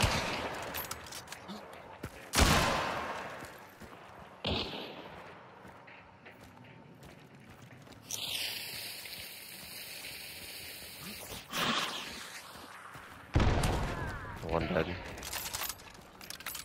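Gunshots ring out in the video game Hunt: Showdown: a few loud, spaced, sharp cracks with quieter game ambience and rumble between them.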